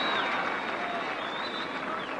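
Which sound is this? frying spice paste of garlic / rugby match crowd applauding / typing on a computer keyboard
rugby match crowd applauding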